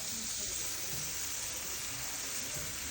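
Garlic bread sears in a hot skillet with a steady, bright sizzle and crackle that stays even and close throughout, a soft continuous frying hiss with no talk.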